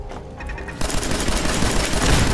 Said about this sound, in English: It was just an explosion.